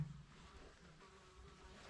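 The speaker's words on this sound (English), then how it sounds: "You can hear bees and flying about." A low, steady insect buzz of bees drones faintly throughout outdoors at an abandoned WW2 RAF airfield control tower in Kinnell, Scotland, with no voices.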